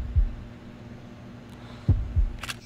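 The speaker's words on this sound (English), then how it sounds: "I like the little heartbeat. That's different." A heartbeat effect from the FNAF remake video game sounds as low, muffled thumps, one near the start and then a double beat later, over a steady low hum, with a brief faint rattle near the end.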